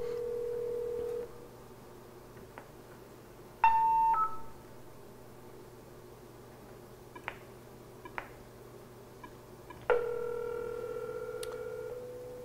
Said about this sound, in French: Enfin, que je vais appeler sur le poste de téléphone.